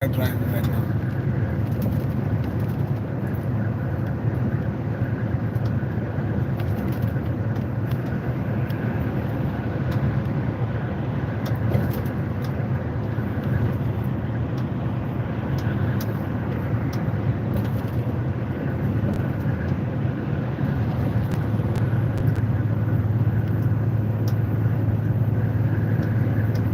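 A car drives at night on the road from Leeds to Scotland, with a steady low engine and road rumble heard from inside the cabin throughout, continuous and unchanging.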